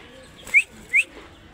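Pigeons from a male and female breeding pair, penned close by, give two short, sharp calls about half a second apart against a quiet background.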